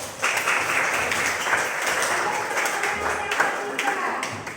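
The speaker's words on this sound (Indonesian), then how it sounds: "kita berikan aplaus untuk sama-sama" A classroom group claps in applause, a fairly loud burst of many hands clapping that continues for a few seconds with voices talking over it.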